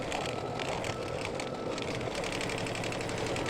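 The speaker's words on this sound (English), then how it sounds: "stitch color stop number 3, which will tack down the background fabric" A computerized embroidery machine stitches steadily in the hoop, tacking down background fabric for an in-the-hoop mug rug, a fast continuous mechanical whir heard close and alone.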